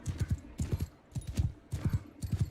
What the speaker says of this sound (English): oh God, this horse is so slow.